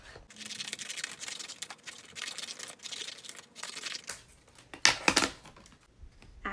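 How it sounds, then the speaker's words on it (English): Scissors cutting out paper for a plant-in-a-bag craft: close, soft crinkling and snipping with irregular short cuts and rustles, quiet overall. "So I'm gonna cut mine out."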